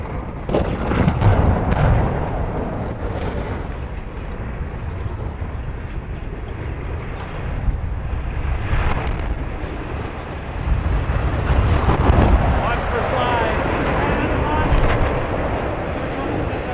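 Explosive demolition of a 650 ft Nanticoke power station smokestack: sharp blasts and booming rumbles roll out at a distance, with loud bursts early and again later amid continuous low rumble and crackling.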